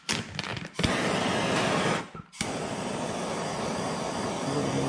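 A heat gun blows a steady, loud rush of hot air onto tint film on a Toyota Corolla taillight, briefly cut off and then resumed, with no talk over it.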